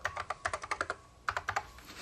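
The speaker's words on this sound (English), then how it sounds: "Be able to grab the keyboard and write a note to yourself." Computer keyboard typing, close and soft: a quick run of even keystrokes, a brief pause, then a few more clicks, with no voices.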